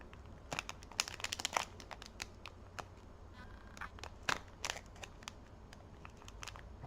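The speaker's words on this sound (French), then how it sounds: "c'est compliqué à ouvrir, ces boosters" A fake Yu-Gi-Oh booster pack is crinkled and twisted as someone struggles to tear it open, with bursts of close, sharp plastic crackling and scrunching coming in irregular clusters over a low steady background hum.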